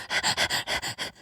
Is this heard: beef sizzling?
no